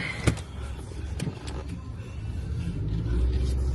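A car pulling away, with a low engine rumble that builds steadily over a few seconds, a couple of sharp clicks near the start, and a faint voice in the background.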